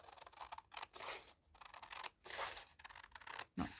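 Scissors trim the white edge off a piece of map paper, a faint, close series of rapid snips and rasping cuts with brief pauses between strokes.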